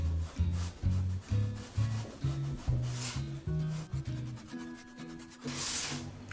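Fingers pressing and smoothing tart pastry up against a metal tart ring, a soft rhythmic rubbing and scraping, close and fairly quiet, repeated in short strokes.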